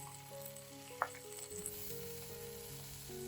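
Vegetables with garlic stir-fried over high heat give a steady, soft sizzle, with one sharp utensil clink about a third of the way in, over faint tonal background music.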